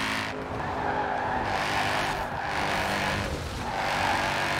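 An Audi RS4 and a Nissan GT-R drag race in the Forza Horizon 4 video game, their continuous engine roar rising and falling in waves, with no talk over it.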